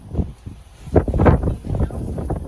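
Gusty wind buffets the microphone with low, rumbling bursts that rise and fall unevenly.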